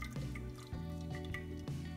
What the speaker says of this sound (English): here I'm pouring the kulfi in the glass container